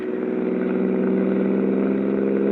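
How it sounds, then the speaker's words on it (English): A car engine holding a steady, loud drone with a constant throbbing hum, close and continuous, as the driver floors the throttle on an old radio-drama road scene. "deliberately I stepped hard on the throttle"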